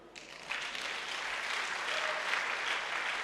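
Congregation clapping during a church worship service, a dense steady wash of applause rising after a brief quieter start and holding loud throughout.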